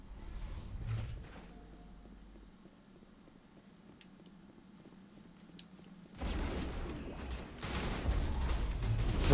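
Bursts of gunfire and loud mechanical clatter in the video game Mass Effect, with a rumbling start, a quiet stretch, then a dense, louder volley.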